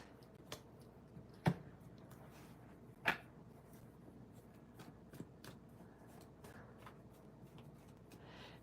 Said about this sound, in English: let me just finish shuffling all these cards so we can clear the energies